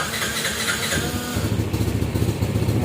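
A restored Yamaha Jupiter 5LM motorcycle's cold engine starts: a brief cranking whir, then the small engine catches and settles into a close, rapid, pulsing idle.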